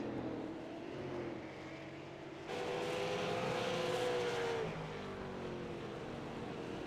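Super Late Model race cars roar along the straightaway at Thompson, a steady broad engine drone that swells louder and nearer as the pack passes, then eases back to a continuous background roar.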